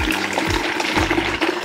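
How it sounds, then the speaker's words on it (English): Water pours steadily from a tap into a container in a home kitchen, a close, continuous rushing gush with slight gurgling fluctuations and no talking. "Gonna fill up this with water."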